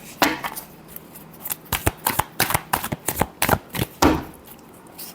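Tarot cards shuffled by hand, a rapid run of crisp riffling flicks and slaps in uneven bursts, close and clear with no speech over them.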